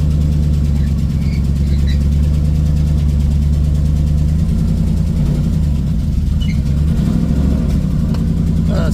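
A Ford Ranger swapped with a Gen 3 Coyote V8 idles loudly and close by in a garage, a deep steady rumble whose pitch wavers slightly midway, with no voices.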